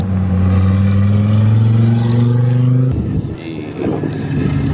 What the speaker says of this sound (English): That Audi sound crazy